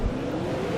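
Race car engines in a sim racing game rev and build together at the start on the Twin Ring circuit, a dense, loud, continuous mechanical roar with a rising tone.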